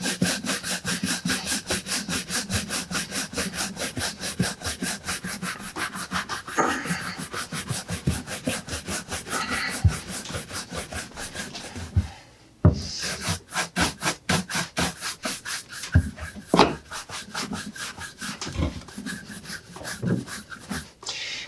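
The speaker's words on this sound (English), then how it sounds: "as we're buffing it out, you can see where it goes from kind of rough where we just applied the polish" A large brush buffs polish off leather work boots in quick, rhythmic back-and-forth strokes, close and scratchy, with a brief pause partway through before the brisk brushing resumes.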